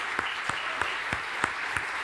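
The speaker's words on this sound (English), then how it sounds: "give them all a round of applause" Audience applause for a panel of debaters at a roundtable event, heard as a steady wash of clapping with a few sharper individual claps standing out at a regular pace, moderately close.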